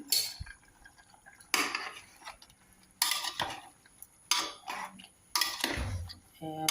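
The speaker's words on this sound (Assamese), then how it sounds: "এতিয়া লৰাই দিম" A spoon stirs chicken curry in a cooking pot, giving bursts of scraping and clinking against the metal separated by quiet pauses, with liquid sloshing close by.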